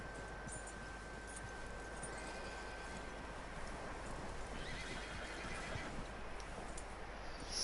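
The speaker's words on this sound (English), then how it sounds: "That looks like a decent horse. You should keep him. Get that horse hitched." A horse in the video game Red Dead Redemption 2 whinnies and clip-clops on its hooves, faint and steady under a wash of background noise.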